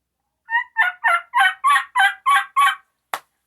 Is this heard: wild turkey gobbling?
yes